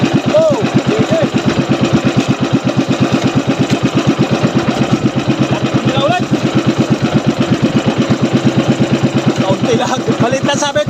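A fishing boat's engine runs steadily throughout, a loud, even mid-pitched chug with a rapid regular pulse, close by, with voices talking faintly over it.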